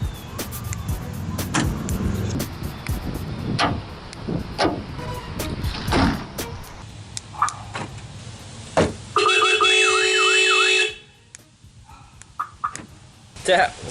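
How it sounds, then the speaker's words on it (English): A Mitsubishi Lancer's newly installed SP-402 security alarm briefly sounds its loud warbling electronic siren for about two seconds, after a run of clicks, thumps and door clunks from the car. "every time I install the security alarm system"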